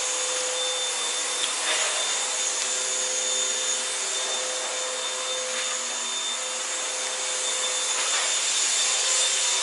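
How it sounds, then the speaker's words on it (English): A vacuum cleaner runs during household hoovering, giving a steady, loud whooshing drone with a constant high whine throughout. Faint scraping and rubbing sounds come and go underneath, and no one speaks. "hoovering"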